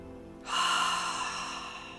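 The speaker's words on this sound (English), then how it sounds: "And let's just take a breath together." A deep breath drawn in together, one soft but clear inhale that swells after a short quiet moment and then tapers slowly, close and alone with no talk.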